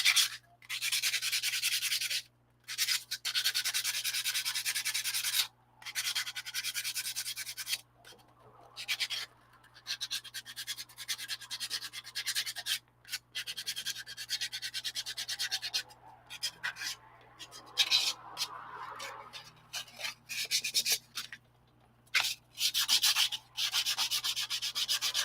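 Hand sanding with 120-grit sandpaper on a puppet build, long rhythmic rasping strokes repeated close up with short pauses between passes, and a steady low hum underneath.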